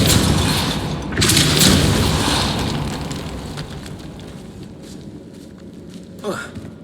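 A Depulso force spell goes off in the Hogwarts Legacy game inside a rune chamber: a heavy booming blast that rumbles and fades, followed by a quieter sharp thud near the end.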